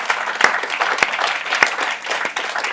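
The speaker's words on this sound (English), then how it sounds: "let's see you clap" A summit audience applauds in a dense, continuous wash of claps, with a few sharp louder claps standing out near the microphone.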